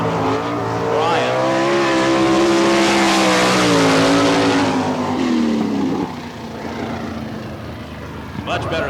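A sprint car from the All Star Circuit of Champions runs a lap at a Florida Speedweek dirt oval in Barberville, its engine roaring loud and steady with pitch sweeps and slight breakup, fading somewhat near the end, with an announcer talking over it.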